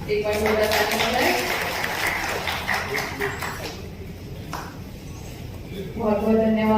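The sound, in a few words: audience applause at award ceremony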